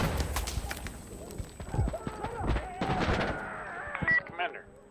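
Gunfire in the video game Death Stranding Director's Cut, sharp shots and bursts scattered through a busy mix of game noise and voices, moderately loud.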